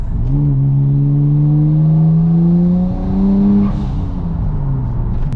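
A car with an aftermarket axle-back exhaust revs up loudly through third gear with a rising drone and raspy exhaust note, steady and close, then briefly dips before climbing again.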